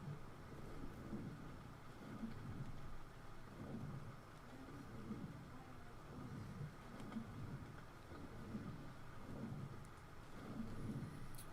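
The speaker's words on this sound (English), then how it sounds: "It's so dark with all the rain." Steady rain and rolling thunder fill a dark in-game storm in Ark: Survival Evolved, a continuous wash of rainfall with repeated low rumbles swelling throughout and no talking.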